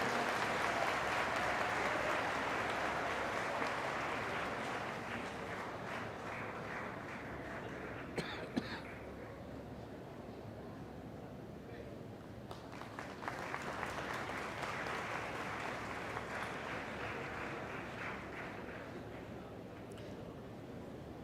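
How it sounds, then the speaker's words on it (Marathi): Audience applause at a Mumbai University event rises as a dense, sustained clapping, thins briefly around the middle with a cough or two, then swells again and carries on steadily. "टाळ्यांचा कडकडाट होऊ द्या ना"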